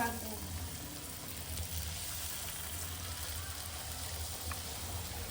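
Batter frying in hot oil at a roadside snack stall in the evening rain, a steady soft sizzle and bubbling hiss that holds evenly throughout, with faint low background rumble.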